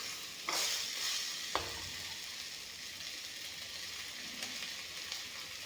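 Chopped old pumpkin tipped into a hot pan over frying fish sets off a steady sizzle, with a couple of soft clattering drops near the start and faint stirring noises underneath.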